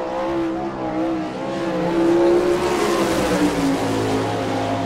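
A sprint car with an Eagle chassis and Kistler engine, the number 22, runs a qualifying lap on a dirt oval, its engine a loud sustained roar with shifting harmonics as it swells and passes nearby.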